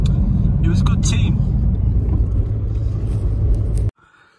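A police car passes close by on the road, a loud steady engine rumble and tire roar that cuts off abruptly near the end.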